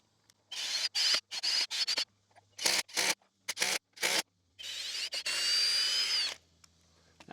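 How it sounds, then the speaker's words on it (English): A power drill bores pilot holes into a hard, seasoned white oak beam in a run of short bursts of high whine separated by silences, then one longer sustained drilling pass near the end. "A little bit of pre-drilling."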